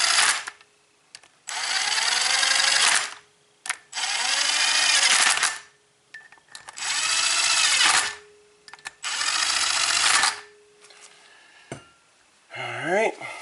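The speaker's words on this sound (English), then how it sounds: "Start just lightly tightening these bolts down." Bolts on a Subaru engine being tightened with a 12mm socket, heard as four loud, close buzzing bursts of a power tool, each lasting a second or two, separated by short pauses.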